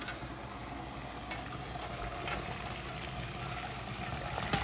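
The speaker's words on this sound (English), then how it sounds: "So this is our rapidly boiling water" Steady bubbling and hissing from a pot of water at a hard boil, constant and close, with no voices.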